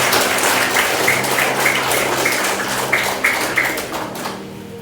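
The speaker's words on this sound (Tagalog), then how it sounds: "Muli isang malaking palakpak para sa Panginoon. Malakas na palakpak." A church congregation claps loudly and steadily, a dense wash of applause that carries on for several seconds before easing off at the end.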